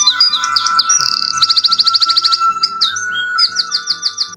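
An alarm clock plays a recorded bird chirping sound: rapid repeated tweets and trills in quick bursts, bright and close, with no talk.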